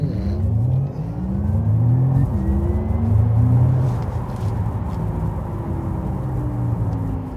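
A 2025 Porsche Taycan electric car launches hard on dry roads in sports mode, its motor whine rising steadily in pitch through several climbing sweeps over a loud, close rumble of road and wheel noise.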